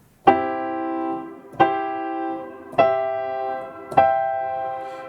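Four piano chords struck one after another at an even pace, each ringing out before the next, climbing from root position through first and second inversions to the root an octave higher.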